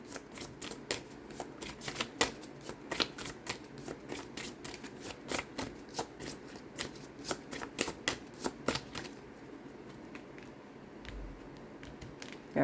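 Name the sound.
shuffling tarot cards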